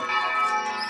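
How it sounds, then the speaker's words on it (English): Brief burst of church bells ringing in a room, a bright sustained metallic chime fading over under a second. "These bells going on in the room."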